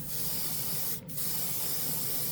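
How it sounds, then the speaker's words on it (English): A steady budget airbrush hiss sprays primer onto a spoon continuously, briefly interrupted for a moment before resuming, with no voices. "Let's see if we can spray the spoon with this"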